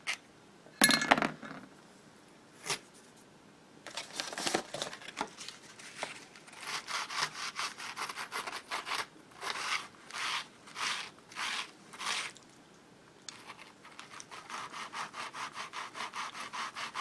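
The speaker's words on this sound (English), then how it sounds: "We use the edge on this screwdriver to kind of clean the burrs off of that right there." A screwdriver edge scraping burrs off a metal part of a Lisle drill grinder, in rapid bursts of rasping strokes, some rhythmic and repeated, with faint clinks between, close and fairly quiet.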